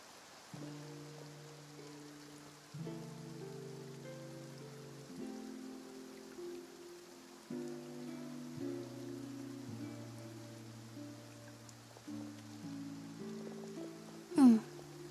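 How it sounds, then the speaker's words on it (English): Soft, steady rain falls in Fontaine in the video game Genshin Impact, a faint patter under sustained musical tones, ending with one brief louder chime. "Looks like rain."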